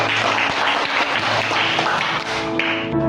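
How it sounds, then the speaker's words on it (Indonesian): Group of children and adults clapping for the kids during a school teaching session on helping one another in Nias, a brisk, loud burst of overlapping claps that tapers near the end. "Berikan tepuk tangan buat anak kami semua."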